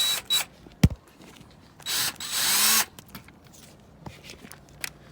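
A power drill runs in one short whirring burst while driving screws back in on a small generator or go-kart engine carburetor and air intake, surrounded by close clicks and knocks of handling parts, with no talking.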